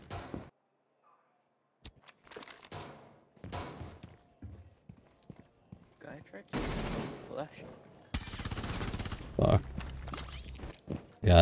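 Rapid automatic bursts from a 9x19VSN submachine gun in Rainbow Six Siege, several loud close strings of shots in the second half after quieter scattered thuds and footsteps, with a voice talking at times.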